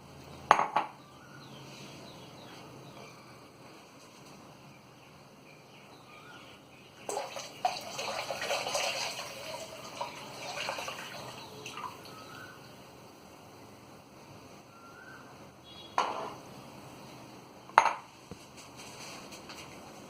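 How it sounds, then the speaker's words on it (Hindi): Milk is poured into a pan and stirred for kheer, with a quiet stretch broken by a burst of splashing liquid and a few sharp clinks of a utensil against the metal pan. "पहले थोड़ा दूध डालकर इसको ऐसे चला लीजिए, फिर बचा हुआ सारा दूध डाल दीजिए।"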